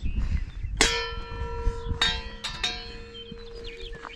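A metal wind chime rings outdoors with a handful of clear, sustained strikes, one near the start and a quick cluster a little later, each tone lingering over a low rumble of background noise.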